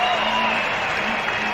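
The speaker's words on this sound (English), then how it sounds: "listen to the roar of the crowd." Cricket crowd at a 1993 tribute match roaring after a wicket, a broad sustained wash of stadium noise with faint applause beneath, steady and fairly loud, with a commentator's voice over it.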